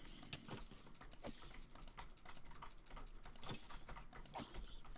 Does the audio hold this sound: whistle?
no